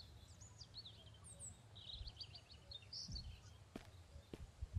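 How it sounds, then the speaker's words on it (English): Birds chirping in the woods of the Mist Survival video game, a quiet scatter of faint tweets and short calls, with a few soft thuds of movement underneath. "I hear all kinds of birds and everything."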